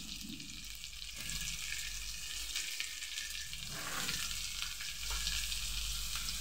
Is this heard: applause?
no